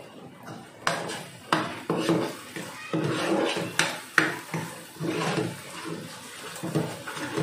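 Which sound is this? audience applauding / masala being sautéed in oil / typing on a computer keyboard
masala being sautéed in oil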